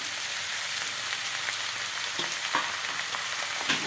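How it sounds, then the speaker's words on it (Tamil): Onions sautéing in a pan for a tomato onion chutney give off a steady, dense sizzle and crackle throughout, close and even, with a few soft stirring scrapes and no voices. "வெங்காயம் கொஞ்சம் நல்லா நிறம் மாதிரி வதங்கிடுச்சு அடுத்தது தக்காளியை போட்டுடலாம்"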